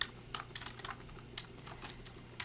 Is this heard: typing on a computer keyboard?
yes